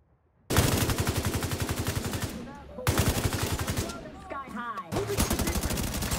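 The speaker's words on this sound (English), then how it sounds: "the current weapon sounds are actually quite solid" Automatic weapon fire from The Division 2 rattles out in three rapid bursts separated by short pauses, loud and close, with faint ricochet and echo tails between volleys and no voices.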